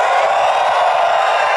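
Another loud, steady roar of cheering rises from a crowd at a 2014 leadership awards ceremony keynote, a continuous wash of voices and whoops with no pause.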